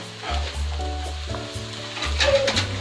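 Eggs sizzle in hot oil in a pan as they are stirred and broken into small pieces for chicken fried rice, with a steady close frying hiss and scraping stirs, no talking.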